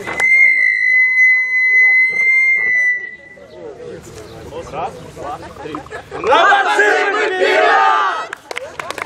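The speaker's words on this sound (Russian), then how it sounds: "Аплодисменты!" Student audience at a university physics-and-maths faculty show cheering, shouting and clapping after a long electronic tone, the crowd swelling loud near the end.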